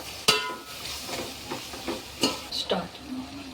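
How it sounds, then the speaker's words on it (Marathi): Biryani masala is stirred in a frying pan, sharp scrapes and clinks of a spoon against the pan over a low, steady sizzle, close by and with no voices. "सगळ्यात लास्ट आपण बिर्याणी मसाला घालूया आणि छान मिक्स करूया।"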